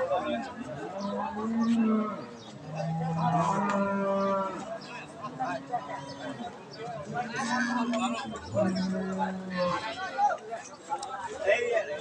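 Jersey and Friesian cows and calves at the Ambari cattle market give repeated deep, drawn-out moos, several overlapping, over a steady hubbub of crowd chatter and voices.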